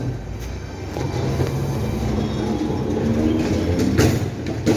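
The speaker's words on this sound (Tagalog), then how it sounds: "Ayun na naman ang isa pang tram going to Western Market." A Hong Kong street tram bound for Western Market rumbles past on Chater Road, a continuous low rolling drone with traffic noise and faint bird calls around it.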